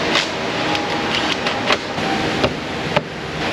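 An A/C refrigerant recovery machine doing 1234yf service runs with a steady mechanical whir, punctuated by several sharp clicks and ticks.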